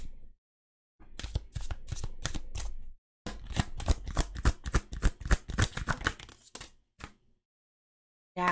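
Tarot cards being shuffled during a card reading: two bursts of rapid, crisp riffling and flapping close to the mic, separated by brief pauses, with no talking.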